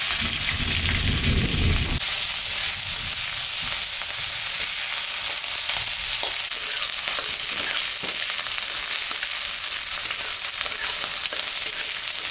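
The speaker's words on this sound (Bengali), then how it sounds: "কিছু ভাজা ভাজা হয়ে গেছে লঙ্কা পেঁয়াজ" Steady loud sizzling of ginger, chilies and onions frying in hot oil, with a low bubbling burst at the start and occasional stirring scrapes.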